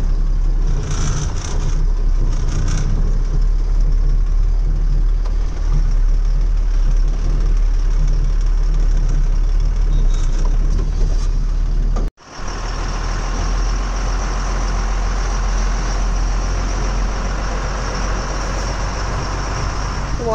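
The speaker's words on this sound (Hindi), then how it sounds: "अभी देखो निकलेगी कैसे अपनी गाड़ी।" A loaded truck's diesel engine runs steadily and close on a rough road while the rear tyre rides over a stone, with a brief dropout midway before the engine rumble resumes just as loud.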